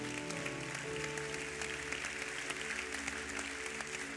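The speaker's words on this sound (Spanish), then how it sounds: "Y dan un fuerte aplauso al Señor por eso." A congregation applauding at a Spanish-language Christmas church service, steady clapping blended with sustained music or organ tones throughout, moderately loud and continuous.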